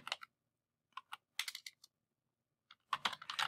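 Typing on a computer keyboard: short bursts of crisp, close key clicks separated by brief pauses, with nothing else heard.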